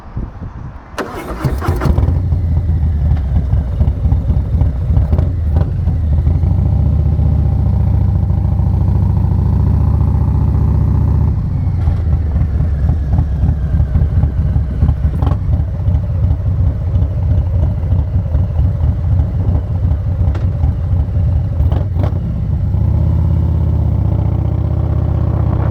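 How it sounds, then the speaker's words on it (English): A Harley 114 engine with an SS 475 cam and a TBR 2-into-1 exhaust starts with a sharp crank, then settles into a loud, lumpy idle with occasional blips, close up and alone. "I only have the TBR 2-into-1 comp exhaust, which, to me, it doesn't sound the best"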